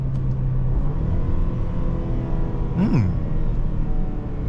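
Four-cylinder engine of a 2022 Mercedes-Benz GLC 300 with a 9-speed automatic while driving, a loud steady rumble under road noise with a brief rising and falling tone near the end.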